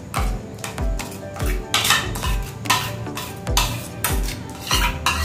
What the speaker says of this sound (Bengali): দইটা ভালো করে ফেটে নেব।